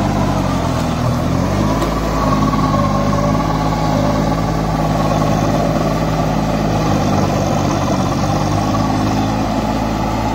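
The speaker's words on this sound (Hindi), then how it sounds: "अब टू व्हील के अंदर देखते हैं ट्रैक्टर में कुछ फर्क पड़ता है क्या" Kubota mini tractor engine in two-wheel drive while puddling a wet field, a steady loud diesel chug running continuously with a slight drop in pitch near the start, no speech over it.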